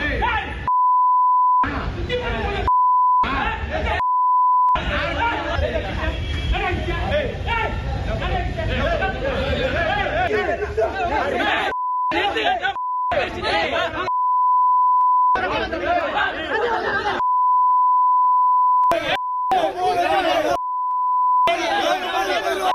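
Repeated steady censor beeps cut across a crowded, heated argument among Congress party workers at a party office, loud overlapping voices and crowd babble filling the gaps, with abrupt silent edits between segments.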